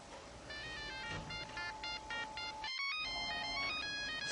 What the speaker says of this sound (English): There's phones going off everywhere.